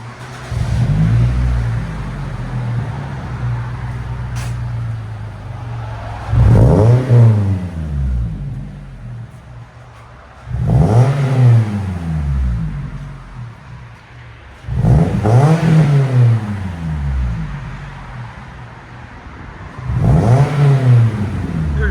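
A 2016 Scion tC 1.5L with a loud aftermarket DTM exhaust is revved repeatedly, about five sharp surges that rise and fall back to a rumbling idle.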